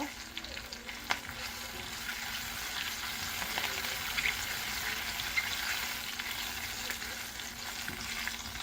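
Mustard seeds spluttering and popping in hot oil while cooking a moringa (drumstick) leaf curry with curry leaves, a steady close crackle and sizzle with a few sharper pops, no talking.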